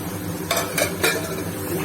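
Peeled eggplant pieces tip into a pan of frying chicken, followed by a few brief stirring and scraping bursts against the pan under a steady low sizzle, close by.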